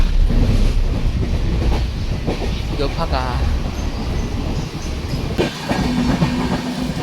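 The Donyi Polo Express pulls away at night, its carriages rumbling with a steady clickety-clack heard from on board, loud and continuous, with occasional voices speaking nearby.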